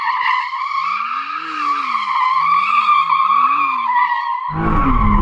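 A McLaren Artura with an electronically controlled limited-slip differential drifting, its tyres squealing in a loud, sustained wail that rises and falls as the car slides, with a burst of engine noise near the end and no talking.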